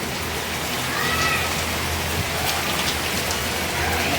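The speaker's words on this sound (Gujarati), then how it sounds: "એવું લાગે છે ફૂલ વરસાદ છે" Steady rain falling, a dense continuous patter of drops on surfaces, close by with no voices.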